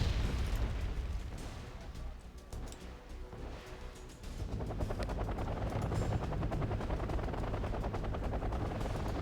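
In the video game Wargame Red Dragon, an Mi-28 attack helicopter drones with a steady, loud rotor thrum, and rapid bursts of gunfire rattle over it.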